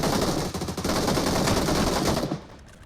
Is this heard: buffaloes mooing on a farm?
no